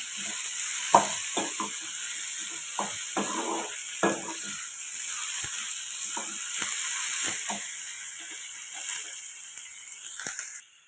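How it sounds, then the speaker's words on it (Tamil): Green chillies sautéing in a pan over a slow flame, a soft continuous sizzle broken by repeated scraping and clattering stirs from a utensil, close and moderately loud with no talk. "பச்சை மிளகாயை போட்டுக்கலாம் போட்டு இதையும் நல்லா வதக்கிக்கலாம்"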